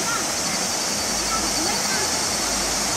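Stream water in Japan rushes steadily as a constant, close, broadband wash with no breaks, heard alone.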